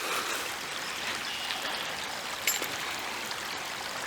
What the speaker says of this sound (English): since water is flowing freely